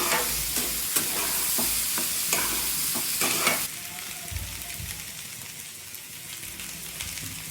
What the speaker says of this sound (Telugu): మనం ఉడకపెట్టుకున్న జొన్నల్ని వేసుకోవాలి వేసుకుని ఒక టూ మినిట్స్ ఫ్రై చేసుకోవాలి